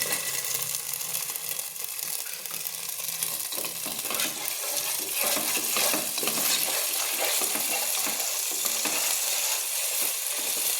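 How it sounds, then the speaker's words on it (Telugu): Chopped green chillies hit hot oil in a pan for paneer masala curry, giving a loud, crackling sizzle. Stirring and scraping run steadily beneath it, and the fizz grows busier toward the end. "మనం తరిగి పెట్టుకున్న పచ్చిమిర్చి వేసుకోవాలి."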